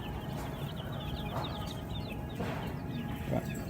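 Baby chicks at a Tractor Supply farm store cheep in rapid, overlapping high peeps, a steady chorus close by over a soft background hum of the shop.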